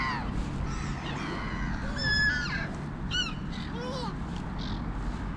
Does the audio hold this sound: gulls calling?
yes